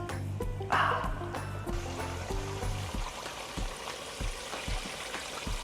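Breaded chicken frying in hot oil, a rising bubbling sizzle that builds after the pieces drop in, crackling steadily through the rest, with low voices murmuring underneath early on.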